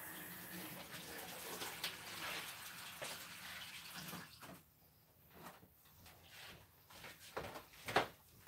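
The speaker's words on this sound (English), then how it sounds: "So I'm going to cover that with" Warm water is poured over eggs in a container for natural dyeing, giving a faint, soft splashing gush with small knocks and clinks around it.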